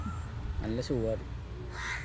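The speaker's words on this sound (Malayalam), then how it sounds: "നാളെ എന്നെ കാണാമെന്ന് വിചാരിക്കണ്ടാന്ന് കാക്ക പറയുന്നുണ്ട്" A crow caws twice in quick succession, close and clear outdoors in a house yard, over a faint background hiss.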